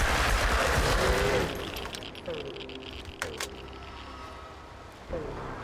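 In the Chernobylite video game, a few sharp gunshots crack out over a rushing ambient background: one loud report near the middle and another shortly before the end.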